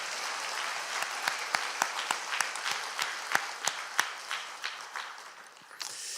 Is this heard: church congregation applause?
yes